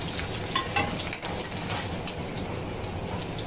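Cumin, garlic and curry leaves crackle in hot oil in a home kitchen, a fairly faint, even sizzle with a few soft pops and no voice over it.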